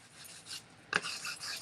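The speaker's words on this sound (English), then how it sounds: "just sanding and distressing it as normal" Steady rasping and scraping of sandpaper rubbed over a dollar-store wooden frame being distressed, with a sharper scrape midway; continuous and close.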